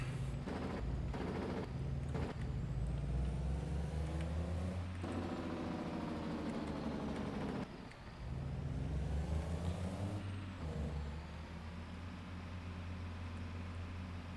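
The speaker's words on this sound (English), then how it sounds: "everybody's loving me with the Jake brake this morning I'm using." Farming Simulator 22 truck engine rumbling with a harsh, rapid-fire Jake brake staccato, loud and sustained with a deep low drone throughout; brief dips and surges as the braking cuts in and out, no talking.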